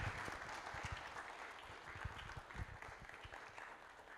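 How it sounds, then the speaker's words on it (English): Audience at an expert Q&A evening on clean code gives a sustained round of applause, many hands clapping steadily at a moderate, slightly distant level throughout. "Can we have a massive round of applause"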